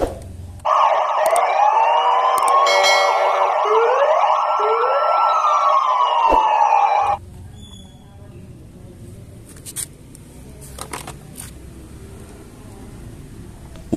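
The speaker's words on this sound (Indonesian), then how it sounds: "Wih, lihat, teman, ada mobil polisi." A toy police car plays a loud, wailing electronic siren that sweeps up and down for about six seconds, then cuts off abruptly and leaves quiet handling noises.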